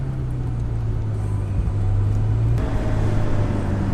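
Steady low engine drone heard from inside a Ferrari supercar while driving, a constant hum with road rumble that shifts slightly partway through, no talking.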